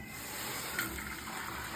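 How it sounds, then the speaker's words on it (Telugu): Hot water is poured into a pot of Rajasthani-style dal, giving a steady, even rush of liquid for nearly two seconds, close and moderately loud, with a slight splash midway. "చూడండి ఇప్పుడు హాట్ వాటర్ వేసేస్తామండి"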